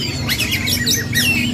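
A kacer wulung (magpie robin) sings in rapid chirps and squawks over a steady low background hum, close and fairly loud.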